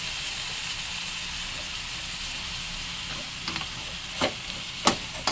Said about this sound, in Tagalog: Mag-mix lang tayo ng black beans.